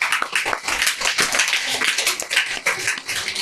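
Audience clapping for performing children at a school celebration of international days, uneven bursts of claps rising and dipping, fairly close and moderately loud.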